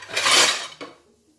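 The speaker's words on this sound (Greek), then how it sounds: "Και βάζουμε μέσα 5 πιάτα της σούπας νερό." Water is poured into a 5-liter, 24 cm soup pot for Greek beef soup with groats and chia seeds. A loud, brief splashing gush swells, fades, then a light clink follows before quiet.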